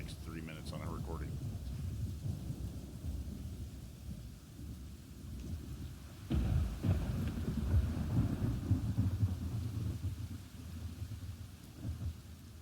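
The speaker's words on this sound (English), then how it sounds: "I really don't want to listen to the rain for the next 3 minutes on a recording." Rain and rolling thunder from a recording played back, with a low rumbling swell that strengthens partway through and some faint voice-like sounds early on.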